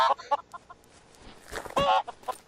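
A chicken in Minecraft gives short, repeated clucks in an uneven rhythm, loud and close, with a louder, longer squawk-like cluck near the end.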